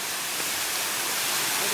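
Mangsang waterfall pours in a dense, steady rush of broadband white-noise roar that stays loud and unbroken throughout.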